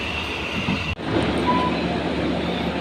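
A night economy passenger train runs on the Blitar–Kertosono line in Indonesia. It gives a continuous rumbling carriage roar with faint wheel clatter, broken once by a sudden sharp drop before the steady noise resumes.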